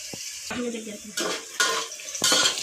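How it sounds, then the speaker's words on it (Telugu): Onions frying in oil in a pan for a Telugu stuffed brinjal curry and bagara rice, with bursts of sizzling and scraping spoon strokes stirring them, several distinct stirring passes, close and fairly loud. "ఇప్పుడైతే ఉల్లిగడ్డ ఎర్రగా వేగింది ఉన్నాయి"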